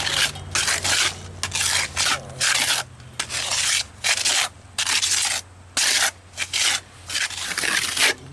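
Plaster being trowelled over a wetted stone foundation, with rhythmic rasping scrapes in short bursts separated by brief pauses, close and fairly loud.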